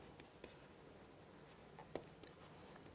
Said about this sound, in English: let's sort of write this down